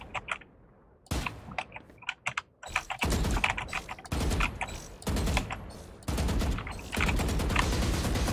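A newly arrived computer keyboard clatters with fast, irregular bursts of clicking keys during a round of the game Valorant, close and loud, separated by brief quiet gaps.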